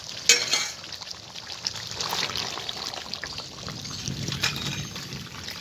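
Ground garam masala paste is poured from a bowl into cooked chicken in a pan, a wet trickling slide with soft splatters over low sizzling, near and unaccompanied by speech.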